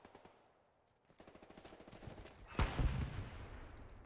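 Gunfire in the World War II shooter game Hell Let Loose, a rapid string of distant shots followed by a louder, closer crack and rumbling echo.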